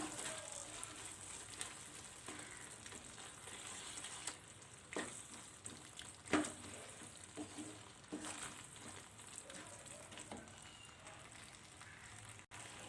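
Soya chunks and masala with garam masala and pepper powder get stirred in a pan for soya chunks manchurian, a faint, steady sizzle with intermittent scraping strokes and occasional clacks.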